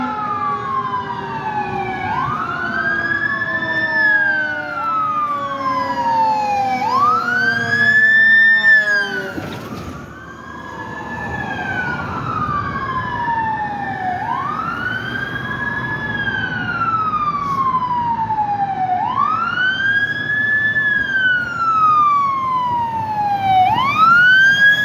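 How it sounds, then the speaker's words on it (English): Boston fire engines leave fire headquarters with sirens wailing loudly and continuously in rising and falling sweeps, several overlapping, over steady road traffic rumble, with a brief burst of air horn near the middle. "Look, the fire department coming out of the headquarters."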